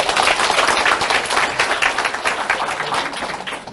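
An audience at a business talk claps loudly and steadily, the applause dense and sustained before tapering slightly toward the end.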